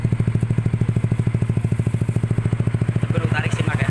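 A Yamaha NMAX or Aerox scooter fitted with an F2 Racing exhaust idles close by, a loud, steady, low throbbing pulse with even rapid beats and a faint rise in revs near the end.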